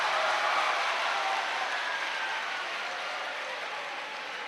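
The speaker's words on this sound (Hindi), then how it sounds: "अब बजाओ ताली, अब बजाओ ताली।" Audience applause at a Hindi motivational talk, a steady wash of clapping that holds at an even level and fades slightly toward the end, with no voices over it.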